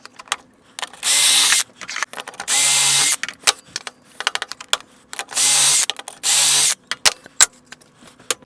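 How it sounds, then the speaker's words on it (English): Power drill boring pocket holes into wood boards for shelf backers, four loud bursts of about half a second each, separated by clicks and handling knocks. "we'll add some pocket holes to our two backers and our shelf"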